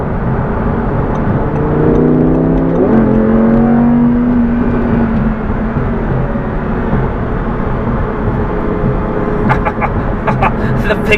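A 2018 Audi R8 V10 Plus engine hums and whirs while cruising, a steady loud drone with a rising then settling rev tone near the start, heard from inside the car.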